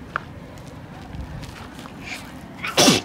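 A single sharp sneeze bursts out near the end, loud and close, after a stretch of quiet room noise with soft shuffling at a preschool open day in South Africa.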